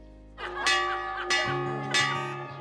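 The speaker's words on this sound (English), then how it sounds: "we gave owners the opportunity to ring the bell every time they won" At a horse racetrack, a winning owner rings the winner's bell: three separate clanging strikes, each ringing on briefly, close and fairly loud.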